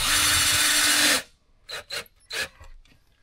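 A power drill runs loud and steady for about a second as it drives a screw into thin metal, then stops abruptly. A few brief scraping or rubbing noises follow in the quiet.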